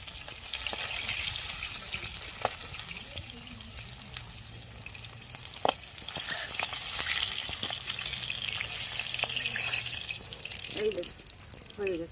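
Boal fish frying in oil in a pan, a steady close sizzle and crackle running throughout with a few sharp clicks and light utensil taps.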